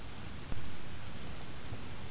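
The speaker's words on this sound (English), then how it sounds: "You know I can't sleep with the rain, honey. It's just too loud for me." Steady rain pours at night as a dense, constant hiss with a low rumble beneath. It is close and fills the whole stretch, with no voices.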